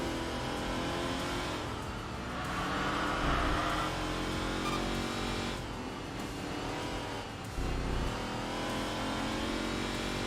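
Ford Mustang engine in the Enthusia Professional Racing video game, a steady mid-pitched drone that swells and eases through throttle changes, loud and continuous for the whole stretch.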